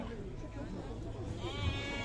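Sheep, some with lambs, bleat at a crowded livestock market in Sokuluk, one clear wavering bleat rising near the end over people talking and chattering nearby.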